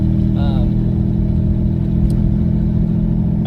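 A twin-turbo V6 Mustang engine runs with a steady, loud mid-range drone throughout, a brief higher whine rising early on, with no distinct throttle blips.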